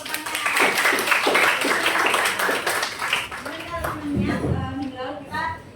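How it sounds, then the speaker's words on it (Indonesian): Students in a classroom clap together, a busy patter of many hands mixed with voices talking over it, fading toward the end as a voice continues. "Tepuk tangan dulu untuk pertanyaan."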